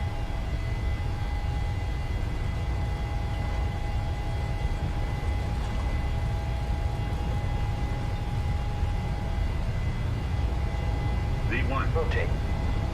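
Steady, broad engine roar with a constant whine as a PMDG airliner rolls down the runway for takeoff in Microsoft Flight Simulator, the powerful drone holding level throughout with a few brief chirps near the end.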